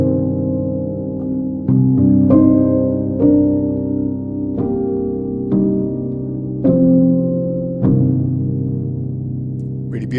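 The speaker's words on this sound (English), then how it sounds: "This is their cinematic soft piano." Spitfire Audio Originals cinematic soft piano plays a slow, gentle passage of soft, muffled chords and single notes, each attack blooming and ringing warmly into the next with sustained resonance.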